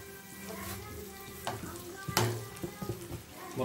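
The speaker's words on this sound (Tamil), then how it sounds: "முருங்கைக்கீரை சேர்த்து நல்லா வதக்கலாம்." Drumstick leaves sautéing in hot oil in a kadai with fried chana dal, urad dal, onion and curry leaves, giving a steady soft sizzle broken by sharper scraping stirs and clinks of the spoon against the pan toward the end.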